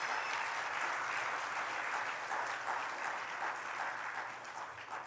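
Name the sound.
congregation applause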